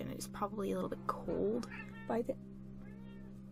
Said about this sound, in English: sorry, my cat is noisy.